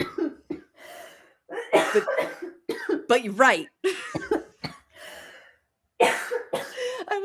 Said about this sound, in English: You're gonna get me coughing.